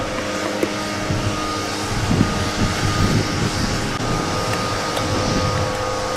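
Agricultural spraying drone working over vineyard rows, a steady close rotor whine and hum with slight swells in loudness throughout, no voices.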